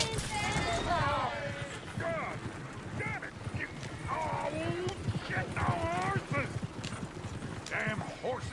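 Rhythmic horse hooves clip-clopping at a moderate distance in the video game Red Dead Redemption 2, with voices talking over them and some mechanical creaking, likely a coach, in the background.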